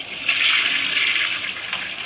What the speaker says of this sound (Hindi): फिर से फ्लश करूँ।